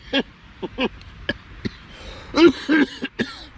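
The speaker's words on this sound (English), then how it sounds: "Bloody cough, it's getting better." A series of short, sharp coughs, around ten bursts spaced unevenly, close up, with a couple of heavier throaty ones near the end.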